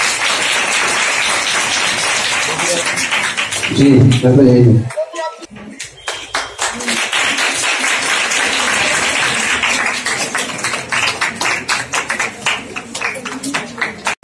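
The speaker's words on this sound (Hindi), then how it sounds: "चाहे तालियां हो जाए शबाना जी के लिए।" An audience at a public event in Meerut claps for a guest in sustained, rattling applause that fades and resumes across the stretch, while a speaker addresses the crowd over it.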